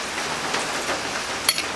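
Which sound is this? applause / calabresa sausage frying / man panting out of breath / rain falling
rain falling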